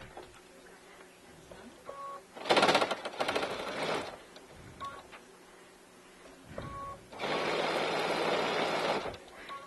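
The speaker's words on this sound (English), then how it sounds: "this machine can sew through thick stuff" A sewing machine stitches through thick fabric in rapid mechanical bursts, two loud runs of clattering stitching separated by quieter pauses with small clicks and taps.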